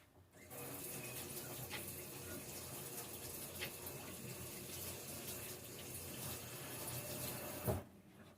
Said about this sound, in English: I'm just going to wash my hands here quickly